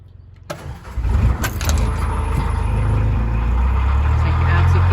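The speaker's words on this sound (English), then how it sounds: "Start the engine. Starting the engine." A car engine is cranked and catches after a warm-up wait, then settles into a loud, steady close-up idle rumble that continues to the end.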